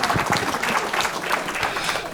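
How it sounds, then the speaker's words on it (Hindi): Audience members at a Hindi poetry gathering clap in a loud, busy round, with individual claps standing out in an uneven rhythm and no talk heard. "एक बार बड़ी तालियों के साथ आवाज दीजिए"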